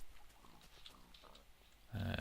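A pig grunts in a blocky farming video game, with soft game ambience before a louder, close grunting burst near the end.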